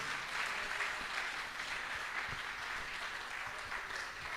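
A church congregation applauds and cheers for Jesus, a dense, continuous wash of clapping filling the room at moderate volume without a break.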